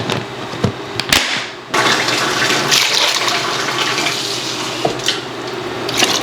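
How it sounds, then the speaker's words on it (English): Water pours steadily into a pot of parboiled rice, a continuous splashing rush close by, with a few knocks at the start. "putting that little bit of extra bit of water in there helps"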